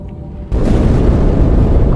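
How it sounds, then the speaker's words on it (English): A loud explosion in the Halo video game, heard as a sudden booming burst that gives way to a sustained, roaring rumble over a quieter earlier background. "That explosion came from inside the Athens, same as the Malta."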